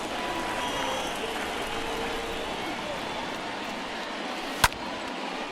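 Stadium crowd noise in the baseball game MLB 2022 during a tense ninth inning, a steady murmuring roar of fans throughout, broken by one sharp crack near the end.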